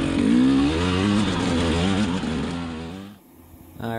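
A 2020 KTM 300xc TPI two-stroke enduro dirt bike accelerates hard in second gear, its close, buzzing engine climbing in pitch, then suddenly dropping off to a low idle near the end.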